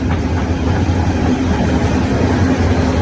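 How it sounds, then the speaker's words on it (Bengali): Meghna Express passenger train pulls into a railway station on the Chandpur to Chattogram route, a loud, close, continuous rumble of rolling wagons with a low engine drone and faint rail clatter. "অপেক্ষা করার একটু পর পরে আমাদের ট্রেন চলে আসলো"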